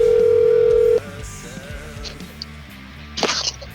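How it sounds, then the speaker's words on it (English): A telephone ring tone on an outgoing call sounds as one steady, loud tone for about a second, then cuts off, leaving quieter background noise and a few faint clicks. "And it's ringing, dude."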